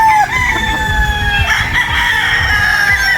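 Bullstag gamefowl rooster at a gamefarm crowing loudly and close, a sustained crow over steady farm background noise with other birds faintly audible.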